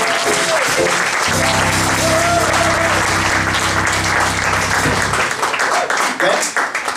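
An audience at a live comedy revue bursts into loud, sustained applause that swells and fades over several seconds, with a voice speaking over the clapping at the start and end.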